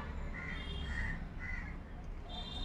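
Several crows caw near a garden bird feeder, with a few spaced, moderately distant calls over a steady background rumble.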